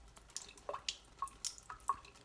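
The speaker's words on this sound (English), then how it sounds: "I wait for the water to drain out of the holes." Water drains from the holes of a freshly watered houseplant pot, falling as faint, irregular drips and small splashes in a quiet room.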